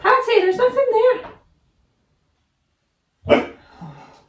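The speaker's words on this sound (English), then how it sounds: "She always has to have the last bark too." A small dog gives one sharp, close bark after a stretch of a person talking, followed by a brief quieter tail of sound.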